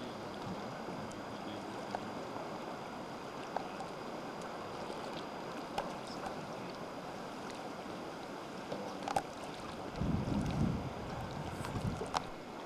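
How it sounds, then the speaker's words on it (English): River water rippling steadily beside a jet boat on the Kechika or Liard River in northern British Columbia in 1992, a constant broadband wash with a slightly louder surge near the end, no voices. "You hear the water rippling away beside us."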